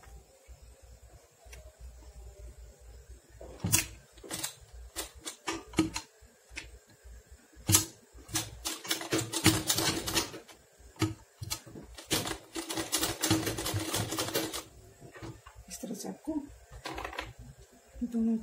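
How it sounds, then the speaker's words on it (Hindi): A sewing machine stitches double piping in bursts of rapid mechanical chatter, starting and stopping between stretches of handling noise, with someone speaking at times. "यहीं से सिलाई चलाना है।"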